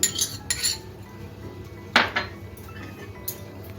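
A metal spoon clinks against a bowl while sour curd is added for a doi bhindi mixture in a home kitchen, a few light, bright chinks with one sharper strike midway, close and alone.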